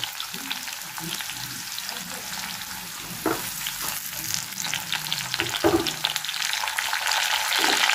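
Tomatoes go into a pan of frying potatoes and prawns, raising a close, bright sizzle with scraping stir strokes and a few louder spatters, the frying growing more intense toward the end, no voices.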